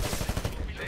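Rapid automatic gunfire in the shooter video game Titanfall, a dense, loud burst of rattling shots in steady succession, heard in a brief snippet.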